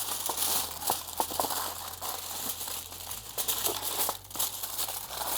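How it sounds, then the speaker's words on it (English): Aluminium foil crinkles and crackles steadily as it is pressed into a paint tray. The crumpling is close and continuous for several seconds, with a low background hum. "I'm gonna line my tray with some foil so that it's easier cleanup"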